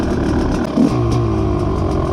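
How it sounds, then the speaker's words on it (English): Rieju MR300 two-stroke enduro dirt bike, its engine running steadily nearby with a raspy buzzing drone and one brief rise in the middle, with no talking. "I do love the sound of a two-stroke"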